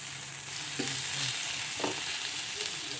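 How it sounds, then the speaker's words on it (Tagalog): Chopped jute leaves are stirred into hot chicken molokhia in a pan, a steady soft sizzle and hiss with a couple of brief scraping stirs, near and moderate in level, no talking. "Ilagay ko naman ngayon ang saluyot."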